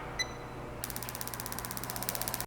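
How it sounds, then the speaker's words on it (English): Crystal Fire Plus burner with direct spark ignition fires its sparker in a rapid run of sharp, evenly spaced ticking clicks over a steady hum, close by and without talk. "you should hear a single beep from the module and a spark that sounds like this."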